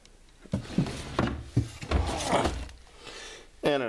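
Wooden drawers holding packed seed packets slide and bump shut in a storage area, several close knocks and scraping slides in quick succession, with a voice briefly heard near the end.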